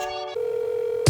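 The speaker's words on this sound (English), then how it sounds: "as well as this phone sound effect" A telephone sound effect in a music production sounds a short, bright electronic phone tone, with a brief buzzy ring giving way to a steady sustained tone that ends in a sharp thump.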